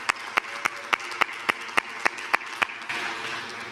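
A small crowd claps along in time at a young professionals' event, with about ten evenly spaced sharp unison claps before it breaks into a brief, looser burst of applause.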